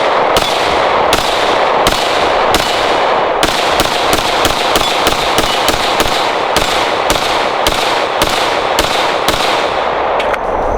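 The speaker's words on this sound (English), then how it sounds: "let's go and take a couple shots here with the FN Five-SeveN" FN Five-SeveN pistol fired in a rapid string of about twenty loud, sharp shots at an even, quick pace, each crack ringing briefly with no pause between rounds.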